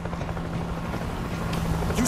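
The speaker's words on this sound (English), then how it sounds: "Another chopper! Looks like an evac!" A military helicopter in World War Z thumps steadily with a rotor drone and rumble, fairly loud and continuous amid gunfire and game noise.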